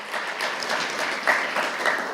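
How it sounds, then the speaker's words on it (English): An audience applauds at a Nashville Reads finale event, a steady wash of many hands clapping with a few sharper claps standing out. "You can clap for that, absolutely."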